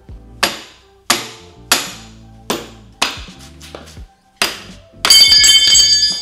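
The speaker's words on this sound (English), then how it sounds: "I'm gonna try and step on this and hammer it out." A hammer strikes a vice grip clamped to a 2019 Ford Fiesta ST motor mount to drive out the bushing, giving seven loud, sharp metallic blows spaced about half a second apart, then a burst of clanking, with no talk.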